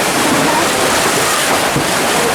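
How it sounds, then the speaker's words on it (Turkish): Sea waves breaking and washing against rocky cliffs on the Antalya coast, a steady broadband roar with no pauses that stays loud and close for the whole stretch. "Bugün biraz dalga var."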